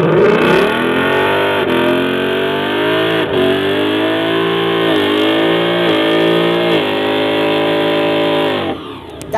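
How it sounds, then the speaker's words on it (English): A Shelby GT500 Mustang doing a burnout, its engine revving hard and loud with repeated rising pitch sweeps and shifts, held near-constant for about nine seconds before easing off at the end. "That is what you call a burnout."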